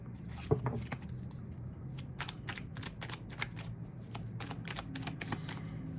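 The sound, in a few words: shuffling tarot cards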